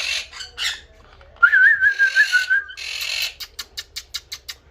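Monk parakeets, also called quaker parrots, squawk from a breeding aviary in loud, harsh bursts. A rising whistled call runs through the middle, and a quick series of sharp, rhythmic squawks closes it out.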